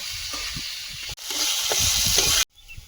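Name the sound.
potatoes frying in a pan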